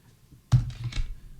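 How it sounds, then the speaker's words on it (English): A short burst of typing on a computer keyboard while entering text in a design tool: a sudden cluster of clicky keystrokes close to the mic after a quiet start, lasting about a second, with no voices. "And let me type that in there."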